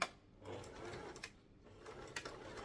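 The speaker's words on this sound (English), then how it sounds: "So I start a little bit and then I backstitch just to secure it" A sewing machine stitches fabric while starting a seam and backstitching, with short bursts of soft mechanical whirring and clicking that start and stop, heard close and fairly quiet without talk.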